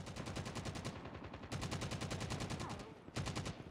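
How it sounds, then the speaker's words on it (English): Rapid automatic gunfire in the mobile shooter Call of Duty Mobile, fast rhythmic bursts of shots running in three strings with brief gaps, moderately distant, no talk. "Somebody's shooting."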